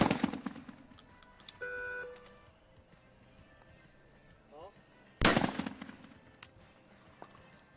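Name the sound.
shotgun shots in para trap shooting final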